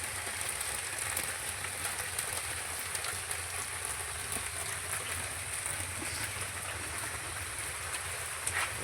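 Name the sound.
rain falling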